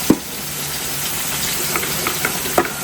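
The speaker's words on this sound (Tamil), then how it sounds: "பேபிமா மீன் வறுவல்" Baby fish frying in a pan, a continuous sizzling hiss with occasional stirring scrapes and a couple of sharp clinks near the start and end.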